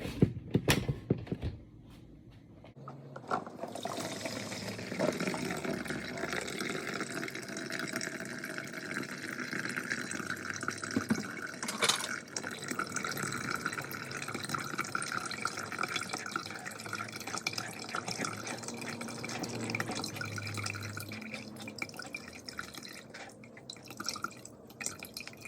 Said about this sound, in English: I'm going to strain it.